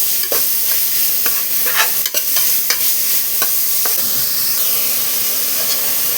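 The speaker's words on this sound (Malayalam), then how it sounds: "അതിലേക്ക് നമ്മൾ ചോപ്പ് ചെയ്ത് വെച്ച ഉള്ളി, ഇഞ്ചി, പച്ചമുളക്, വെളുത്തുള്ളി, കറിവേപ്പില എല്ലാം കൂടി ഇട്ട് ഒന്ന് മിക്സ് ചെയ്യാം." Chopped onion, ginger, green chili, garlic and curry leaves sauté in hot oil for a chicken dish, giving a loud continuous sizzle and hiss with sharp intermittent scrapes and clicks of a stirring spoon, close and unvoiced.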